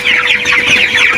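Young broiler chickens, around 19 days old, fill a poultry shed with dense, continuous clucking and chirping. The sound is close and steady, with no one talking.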